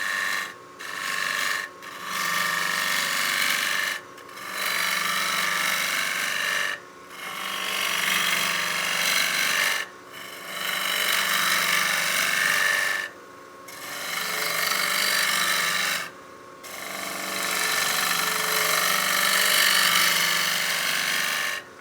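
A wood platter spinning on a lathe while a turning tool shears its surface, producing a loud, close scraping rasp in long passes separated by short silent breaks.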